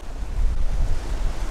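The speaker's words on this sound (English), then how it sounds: "These waves are crazy." Lake waves crashing on a rocky shore, a loud, rough wash of surf mixed with gusty wind noise, continuous and close.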